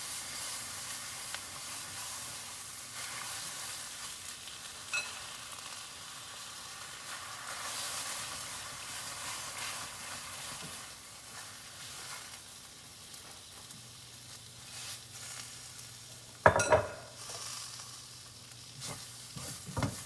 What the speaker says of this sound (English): Once veggies are toasted, add a little bit of spinach.